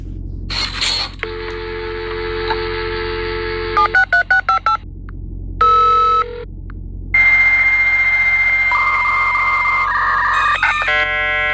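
Telephone dialing tones play from a video: a long run of electronic beeps, steady tones and quick bursts of key tones, loud and clear with no talking.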